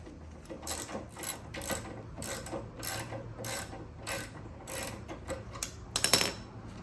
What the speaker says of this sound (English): I have my ratchet here with my 17 millimeter socket. So basically, you're gonna just loosen this here.